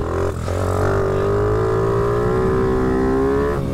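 A Mini GP motorcycle on a track, its small engine roaring close and loud, briefly dipping then winding up in a steady rising rev as it accelerates.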